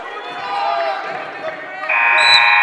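Excited commentary over a noisy crowd at a high school wrestling match, Sussex Central vs Smyrna, then a loud, sustained electronic end-of-period buzzer blares at the end.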